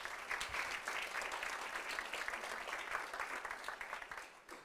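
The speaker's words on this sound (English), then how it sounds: "So let's welcome her with a round of applause." An audience applauds at a lecture event, giving dense, sustained clapping that holds steady and then tapers off toward the end.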